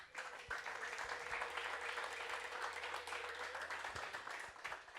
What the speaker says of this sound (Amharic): ባካችሁ ለዚህ ጌታ አጨብጭቡለት።